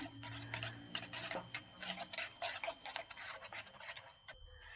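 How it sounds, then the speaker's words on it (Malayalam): Salt, Kashmiri chili powder and turmeric being mixed together in a bowl, heard as a quick, steady run of close scraping and rubbing strokes with soft ticks, fairly faint, with no talking. "ഇനി ഇതെല്ലാം കൂടി നന്നായിട്ടൊന്ന് മിക്സ് ചെയ്തെടുക്കാം"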